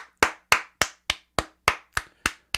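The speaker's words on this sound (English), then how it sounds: "Round of applause, man." One person claps slowly and loudly alone, nine sharp, evenly spaced hand claps in a measured rhythm, close up and with silence between each.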